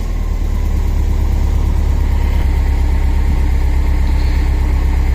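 A car engine run through a Link G4+ standalone ECU, idling loud and steady close by with a continuous low rumble and no clear rise in revs.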